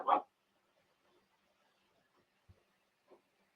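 A single loud dog bark bursts out at the start, followed by a few faint, scattered noises in an otherwise quiet outdoor setting.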